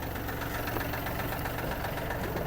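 A Yanmar AF-26 Japanese mini tractor engine running at reduced revs near idle, a steady close mechanical drone with a rapid even knock and no voices.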